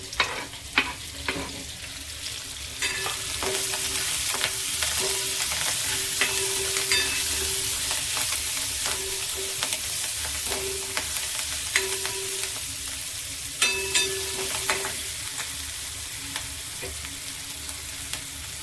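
Garlic, finely chopped green chili and coriander fry in a pan for hotel-style whole masoor, giving a constant crackling sizzle punctuated by repeated sharp taps and scrapes of a stirring spoon, with no speech.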